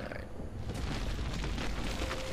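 A shot barrel explodes in the Gauntlet video game, a dense, rumbling boom that fills the short moment with crackling low-end noise, loud and close with no talking over it.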